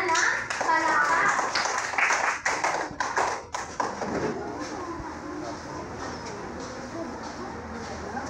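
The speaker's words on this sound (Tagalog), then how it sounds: "Bigyan natin sila ng palakpak." Applause from an audience for a group of school pupils, a burst of many hands clapping for a few seconds, then fading under children's voices and room chatter.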